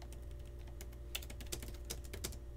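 Rapid keystrokes on a computer keyboard as a networking command is entered, a close, irregular run of crisp clicks with a few louder key hits over a steady low hum.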